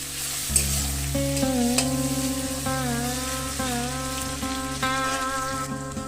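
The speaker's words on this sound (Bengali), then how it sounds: "পেঁয়াজটাকে একটু লাল লাল করে ভেজে নেব।" Onions fry and get stirred in a pan with a little salt, giving a continuous close sizzle under a steady hum with sustained tonal drones and occasional faint clinks.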